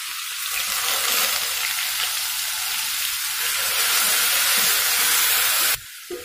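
Grated onion frying in a pan while cooking a dry cluster bean dish, giving a loud, steady sizzle with hissing steam that holds for about six seconds before cutting off abruptly near the end.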